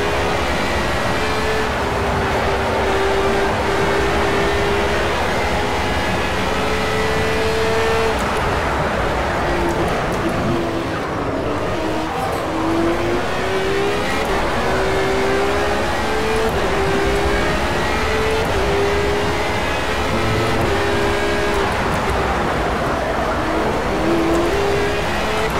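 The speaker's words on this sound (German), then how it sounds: "Habt ihr die Drehzahl hochgehen hören?" Radical SR3 race car engine in the racing game Project CARS, a steady high-pitched drone whose revs climb and dip in long sweeps, continuous and fairly loud throughout with a speaking voice over it.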